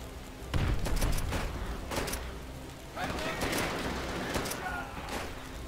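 Gunfire in Call of Duty: World at War, several loud, sharp shots in uneven bursts over rumbling game noise, with a voice talking over the action.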